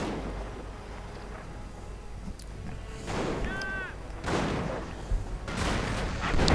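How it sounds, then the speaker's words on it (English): Sector artillery lands in a real-time strategy game as a dense run of booming impacts and rumbling explosions under ongoing battle noise, growing louder toward the end. "And so nasty hits, but artillery going in. Sector artillery, in fact, from Manchuriancandidate."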